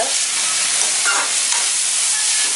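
Beetroot poriyal with coconut and coriander is stirred in a hot pan on the stove, giving a loud, continuous sizzle with scraping stirring noises throughout and no talking.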